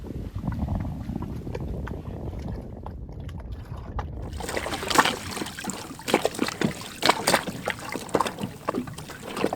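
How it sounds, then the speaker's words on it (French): Small waves slapping and lapping against the hull of a boat anchored off Tahanea atoll in the Tuamotus, a low wash joined by a run of close, irregular splashes and knocks, no talk. "dans l'inconfort des clapotis"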